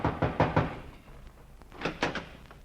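Heavy knocking on a door, with loud pounding thuds in two bursts: a rapid cluster first, then a second run of blows after a short pause, with no voices.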